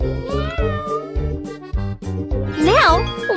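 A cartoon cat meows several times in a Baby Bus children's game over cheerful looping music, the last meow rising and falling clearly near the end.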